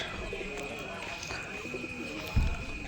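Pigeons coo in a loft of high-flying pigeons: low, soft coos sit under a constant hiss, with a brief thump near the end.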